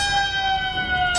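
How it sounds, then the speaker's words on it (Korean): An emergency siren wails at dawn over the Hwasun coal mine camp in a radio drama, with steady sustained tones holding for the whole moment at moderate loudness, no voices over it. "비상 사이렌 소리가 울려 퍼졌다."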